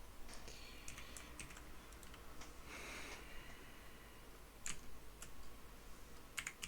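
Someone types on a computer keyboard while entering a Discord bot command, producing quiet, irregular clicks of keys. A few sharper taps stand out near the end.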